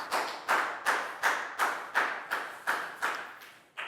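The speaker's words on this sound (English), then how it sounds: "And a round of applause, guys." A classroom of Year 4 pupils claps in a steady round of applause, about ten evenly spaced, fairly close claps with no talk over them.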